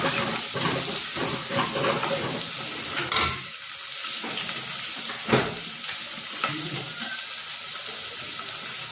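A dal tadka tempering of ginger-garlic paste and curry leaves sizzles in hot oil, a loud, bright hiss broken by sharp pops and bursts, with clattering in between.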